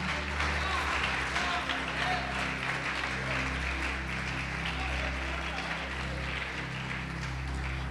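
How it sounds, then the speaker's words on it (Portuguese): Steady applause from a church congregation fills the space over a low, sustained musical drone, with some voices mixed in. "Pode aplaudir o Senhor Jesus e glorificar Ele."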